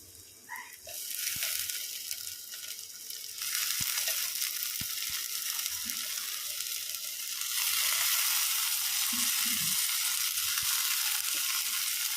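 Washed, chopped spring onions fry in hot oil in a pan, giving a loud, continuous broadband sizzle that swells as cooking goes on, with occasional faint clicks and no speech.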